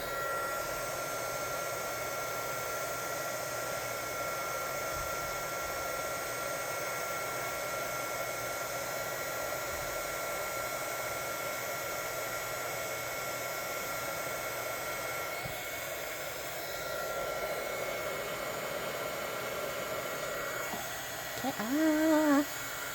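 A handheld heat tool blows hot air in a steady, loud, continuous whoosh with a motor whine, running unbroken for the whole stretch, with a little handling noise toward the end.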